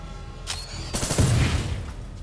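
Gunfire from the Titanfall 2 campaign: a short burst of loud, close weapon fire with booming low end, rising sharply after a brief pause and then trailing off, with no one talking over it.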